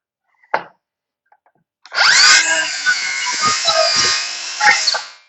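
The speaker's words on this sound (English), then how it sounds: "I can use my circular saw using the edge" A circular saw guided by a spline jig cuts a slot in wood, giving a short knock and then a loud, close whining cut lasting about three seconds with the blade pitch rising as it spins up.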